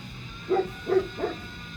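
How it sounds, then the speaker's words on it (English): A dog barks three times in quick succession, somewhat distant and muffled, over a quiet background. "Next door neighbor let the dog out."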